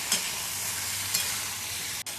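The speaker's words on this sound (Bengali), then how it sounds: "সজনে ডাঁটা আর আলু একসাথে বন্ধুরা ভেজে নেব" Drumstick pieces and potatoes frying together in a pan for a Bengali mustard chorchori, giving a dense continuous sizzle with a couple of brief stirring clatters.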